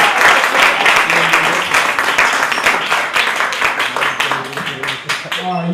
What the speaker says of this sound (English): You guys, clap for him like he's your brother.